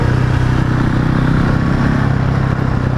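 A Husqvarna 701 motorcycle engine roars loud and close during a small wheelie, holding a steady, dense drone throughout without any talking.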